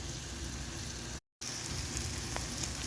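Onions cooking down in a pot, giving a steady crackling sizzle like light rain that runs throughout, broken by one short moment of silence.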